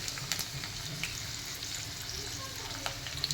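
Mustard seeds splutter in hot oil as onions go in for a Telangana-style vegetable curry, a constant close sizzle with sharp pops and crackles throughout.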